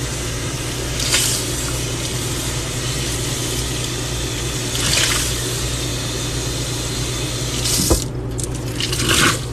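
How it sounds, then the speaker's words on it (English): Water running from a sink tap as a sponge is rinsed, a steady hiss with a few brief splashy squishes and a sharper clatter near the end. "Make sure I rinse this sponge out really well."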